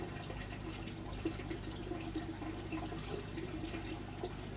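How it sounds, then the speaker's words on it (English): Steady pouring of buckets of water into a blue fish bowl holding koi, a continuous splashing rush that holds level throughout with no voices. "2 more buckets of water into the blue bowl"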